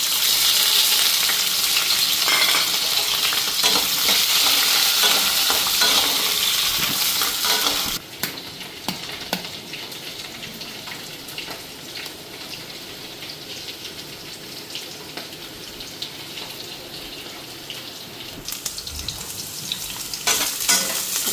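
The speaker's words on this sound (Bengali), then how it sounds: "পেঁয়াজটা আগে দিয়া নিই।" Onions fry in hot oil in a kadai, a loud, dense sizzle that drops sharply after about eight seconds to a quieter crackle with occasional stirring clinks, no talk.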